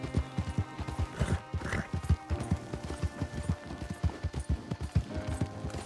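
Horse hooves clip-clop in a steady, fairly quick rhythm at close range, each footfall a distinct hollow knock that repeats for several seconds.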